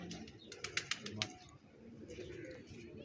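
Pigeons in a pigeon loft give soft coos and a short burst of chirps, close by, with faint background murmur and some low rustling.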